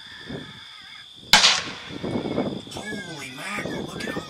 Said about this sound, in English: She's about to shoot.